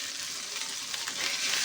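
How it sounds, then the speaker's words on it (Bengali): Turmeric and salt masala fry in oil in a pan for a ghetkochu bhuna, producing a dense, even hiss that swells slightly toward the end, close and alone. "দিয়ে এটা ভালো করে কষাই নেব"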